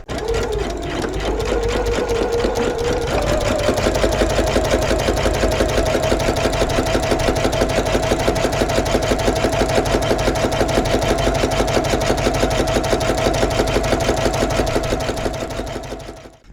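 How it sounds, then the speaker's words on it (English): A sewing machine stitches a 3/4 inch seam on a fabric bag panel, running steadily and loudly up close with a fast, even mechanical chatter and hum that starts and stops cleanly. "And now I'm going to sew the other side of the panel, or the other side of the square."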